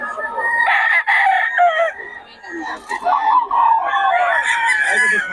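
Several roosters crowing and clucking close by, overlapping calls filling most of the clip with brief dips between them.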